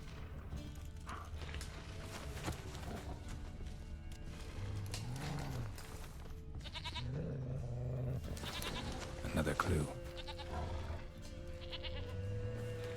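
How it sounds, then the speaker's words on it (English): A goat in The Witcher 3 bleats several times in wavering cries over hoofbeats and game ambience, and someone speaks briefly. "Let's go see if we can find this goat."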